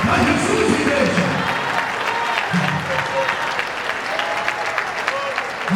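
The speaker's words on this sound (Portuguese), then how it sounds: "desocupa suas mãos e dê comigo um salve de palmas bem forte" A church congregation claps loudly in sustained, dense applause throughout, with raised voices and cheering mixed in under the clapping.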